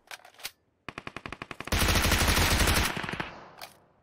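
Automatic and single-shot gunfire from the PUBG Mobile battle game: a short burst, a quick run of separate close shots, then a loud sustained rattling volley that fades into scattered final shots, with no talking.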